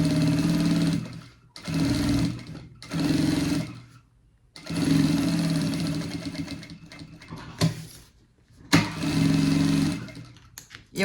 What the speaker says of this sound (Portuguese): Aqui, ó, já vou passar uma costurinha, prendendo todo o forro no nosso bolso.